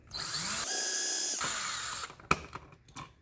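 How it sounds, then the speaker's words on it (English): Cordless power drill backing screws out of an electrical outlet in a wall: a steady, loud whirring drive for about two seconds with a brief pitch change partway, then a sharp clack and a few lighter handling knocks. "first thing we're going to do is get this outlet unscrewed from the wall"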